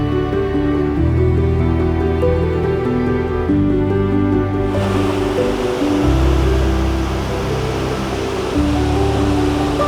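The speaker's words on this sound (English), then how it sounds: "we're almost exactly at sunset now, and I have made it to the waterfall" A waterfall at sunset roars as a loud, continuous broadband rush of falling water, close by and steady, with no voices.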